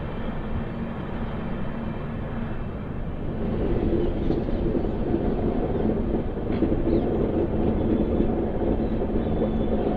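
Palnadu Express LHB special train running, a steady broadband rumble of wheels and coaches that swells slightly louder partway through and holds, with no voices.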